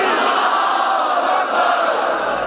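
A large crowd chants slogans in unison at a religious majlis gathering in Karachi, a loud continuous roar of many voices sustained without a break.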